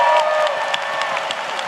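An audience at a New York graduation ceremony cheers and applauds for special guests, with loud, continuous clapping mixed with raised voices that stays steady from start to finish.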